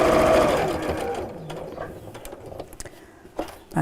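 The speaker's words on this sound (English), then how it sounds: "stop with your needle down when you get to the corner and carry on sewing" A sewing machine stitching a patchwork pin cushion, running in a steady, loud mechanical whir at first and then slowing into softer, intermittent stitching.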